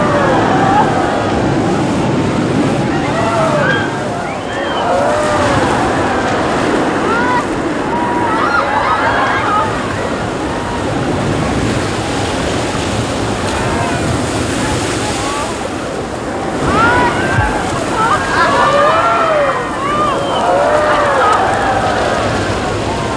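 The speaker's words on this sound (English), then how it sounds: "Then I heard a snap and a crackle and the roar of lava falls" Roaring Lava Falls rapids on the river, heard aboard a boat during the ride: a continuous loud rush of churning water and wind buffeting the mic, with shouting voices rising and falling above the din.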